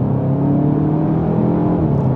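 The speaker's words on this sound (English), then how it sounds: "So now you're just left with what sounds like a four cylinder engine" A Cupra Formentor fitted with an ABT performance pack runs its four-cylinder engine, a steady, loud, close drone with a low rumbling hum and no talking.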